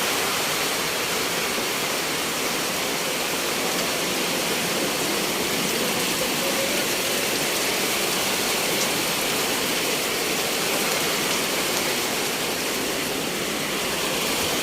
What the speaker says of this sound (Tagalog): Pumasok na ang tubig dito sa kwarto.